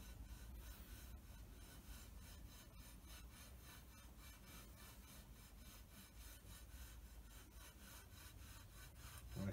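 A 12-inch cast iron straightedge is rubbed back and forth over a surface plate during hand scraping, producing a steady rhythmic scraping rasp of repeated strokes, quiet and close throughout.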